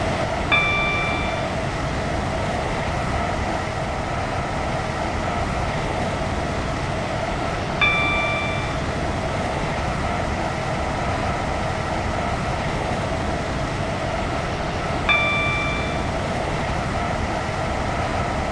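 A Class 357 electric train running in the Roblox game Stepford County Railway, a loud, continuous rolling rumble with a short tonal chime repeating about every seven seconds.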